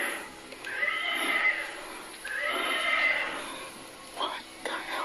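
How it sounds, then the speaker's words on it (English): A horse neighs twice in a row, two long, loud whinnies about a second apart, followed by a few softer snorts and breathy sounds; a faint voice is also present. "Is that your horse?"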